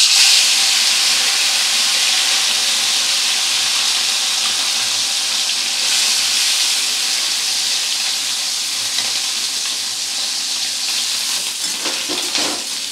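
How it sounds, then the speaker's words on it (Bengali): Small chuno fish frying in hot mustard oil give a loud, constant hiss and sizzle that eases slightly toward the end, with a few scattered crackles near the close and no talk. "এবারে আমি প্রথমে মাছগুলোকে ভেজে নেব হালকা করে।"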